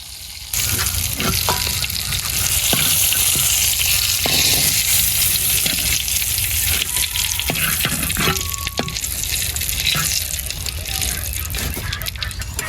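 Eggplant sizzles loudly in oil in a home village kitchen, a steady bright crackle with scattered pops and utensil clinks, a faint voice now and then underneath.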